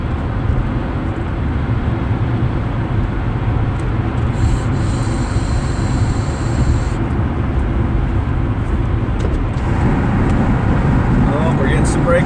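A car cruises along the road with a steady, droning road and engine rumble that holds from start to end, and someone talks over it.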